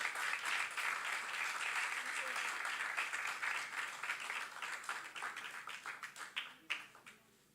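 Sustained applause from an audience at a family storytelling afternoon, dense clapping that holds steady then thins into scattered, separate claps before fading out.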